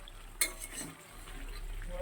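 A spoon stirs chicken curry as it cooks down in a pan, giving a short, quiet scrape with one sharp clink against the metal, heard alone and close.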